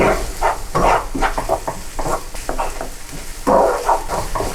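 A spoon stirs tomato paste and sugar into a pot of tomato sauce for pizza, giving soft, uneven scraping and squelching strokes close by, with no talking.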